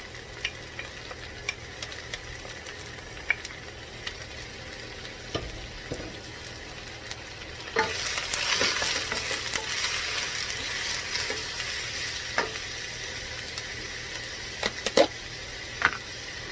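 Garlic and peppers fry in a pan with a steady close sizzle, broken by occasional scrapes and stirring clicks; the hiss swells louder about halfway through and then settles back.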